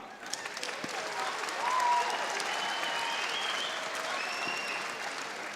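A fight-night crowd at a combat sports event applauds steadily with scattered cheers and whistles, a dense sustained wash of clapping that swells briefly and holds throughout.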